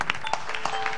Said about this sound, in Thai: ขอเสียงปรบมือให้กับพี่แมวด้วยครับ